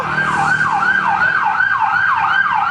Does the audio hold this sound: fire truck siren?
yes